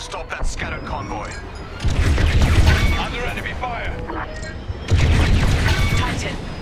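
Enemy fire and missile volley explosions in the Star Wars: Squadrons space combat game, heavy booming blasts that swell at two points over a continuous rumble of battle, with pilots talking over the action.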